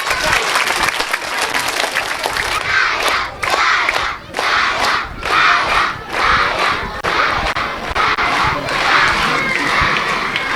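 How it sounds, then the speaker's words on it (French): A crowd at a school ceremony in Ouakam claps and cheers loudly, with children's shouts and whoops, sustained applause pulsing in waves throughout. "Nous allons accueillir sur un tonnerre d'applaudissements"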